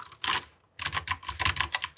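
Rapid clacky keystrokes on a custom-built mechanical keyboard with Kailh Speed Silver switches: a short burst, a pause, then a quick irregular run of crisp taps, close and fairly loud.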